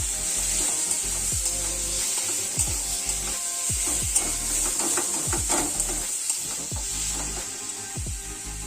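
Cumin and coriander paste frying in a pan for egg curry, a steady sizzling hiss beneath repeated scraping strokes of a spatula against the pan, close and continuous, with no talking.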